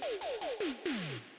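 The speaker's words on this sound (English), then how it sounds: "this synth patch that I used as a tom" An 80s-style synth tom patch plays a quick run of five pitched, downward-sweeping hits, each ending in a descending tone, with the last one lower and longer. The hits are close and clear, with no voices.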